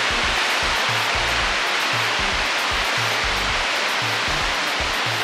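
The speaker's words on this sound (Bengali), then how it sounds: "এই যে এর মধ্যে দিয়ে পেকচু বয়ে চলেছে" Pekchu river rushing over white stones on a mountain trek, a loud, continuous broadband roar of fast water with no pauses and no voices.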